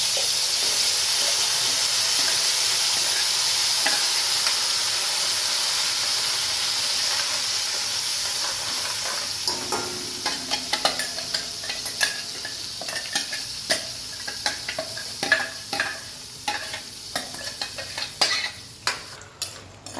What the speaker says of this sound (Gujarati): આ ગ્રેવી ને તેલ છૂટું થાય ને ત્યાં સુધી એકદમ આપણે સાતળવાનું છે